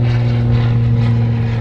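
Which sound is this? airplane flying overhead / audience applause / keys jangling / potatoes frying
airplane flying overhead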